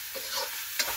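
A local chicken tite dish cooks in a pan, giving a soft steady sizzle with a quick scrape of a stirring spoon near the end, brief and close.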